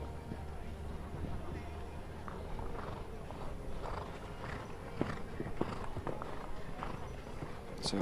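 Horse hooves thud across an arena during a show jumping round at a Grand Prix final at Steyn City, faint irregular footfalls with a few sharper knocks under continuous commentary and crowd ambience.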